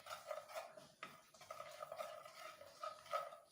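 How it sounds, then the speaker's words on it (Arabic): Spices are stirred into melted ghee in a pot, giving quiet, close scraping and swishing strokes in an uneven rhythm, with no talking. "انا السمنه ساحت معايا وهبتدي احط كل التوابل بتاعتي ديت فيها"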